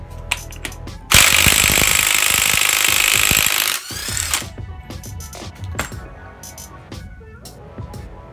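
Impact tool hammering loose the large bolt on the top cam gear of a GM L67 engine short block, a loud rattling burst of nearly three seconds, then clanks and tool handling nearby.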